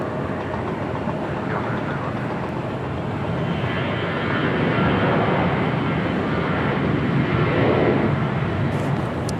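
A heavy jet airliner departs Los Angeles International Airport, its engines producing a broad, steady roar that stays loud and constant throughout, building slightly in the second half.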